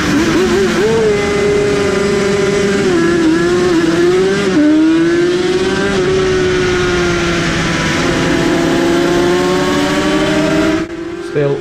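A Craven TZ racing motorcycle engine at a club race at Anglesey drones loudly and steadily close by, its pitch sliding up and down through gear changes, before cutting briefly near the end.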